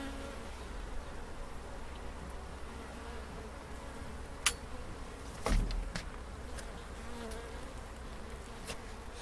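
Bees hum in a dense, steady drone from inside an open beehive in Wiltshire, close and continuous, with a few sharp knocks and clicks from handling the hive.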